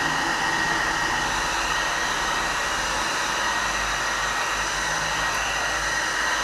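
A cheap Nova hair dryer runs steadily nearby, giving off a constant, even whooshing whine of motor and blowing air with no break and no talking.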